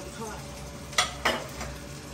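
Sabudana tikki frying in oil give a low, continuous sizzle, with two short, bright crackling bursts close together as pieces drop in or are turned.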